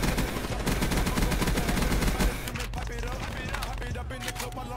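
Rapid automatic gunfire from a Black Ops 3 match, loud and dense bursts firing at a robot, with crackling shots continuing steadily before thinning out near the end.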